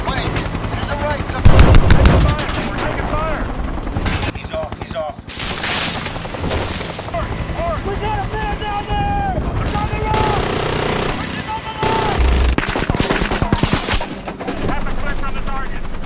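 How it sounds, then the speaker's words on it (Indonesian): Gunfire rakes a helicopter as it comes in to land in an action film about Colombian cartel territory, with loud sustained bursts and volleys over a constant rotor roar and dramatic score, and voices speaking throughout. "tiba-tiba helikopter mereka diserang oleh musuh padahal baru saja akan mendarat"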